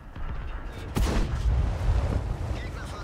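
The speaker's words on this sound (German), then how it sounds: "Und einen schönen Schuss nochmal auf den Setter." A single heavy tank cannon shot in a tank combat game, one sharp loud blast followed by a rumbling tail, under engine noise and a German-speaking voice.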